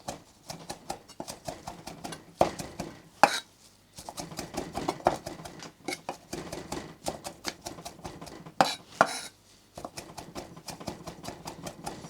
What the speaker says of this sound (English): Just roughly chop those up.